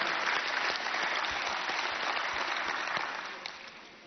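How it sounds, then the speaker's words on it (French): Sustained audience applause fills a conference hall at an African business forum, a dense, steady wash of many hands clapping that holds loud throughout and eases off slightly toward the end. "qu'il faut applaudir très très fort"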